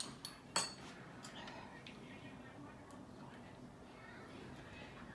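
Spoons clink against a pot or bowl while serving lentil soup and pasta e lenticchie, two quick bright metallic taps early on, then quiet room tone.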